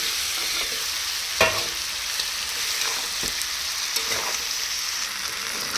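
Already-fried chicken meat, seasoned with salt and turmeric, is stirred in a hot pan, giving a steady close sizzle broken by a few sharp scraping stirs, with no talking.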